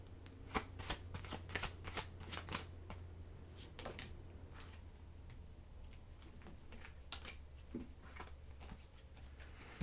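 Oracle cards being shuffled by hand, a dense run of quick riffling flicks and soft slaps close by over a steady low hum, continuing throughout with no talking.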